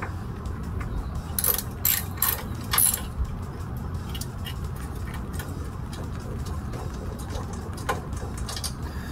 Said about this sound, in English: we're going to remove the four bolts for the tank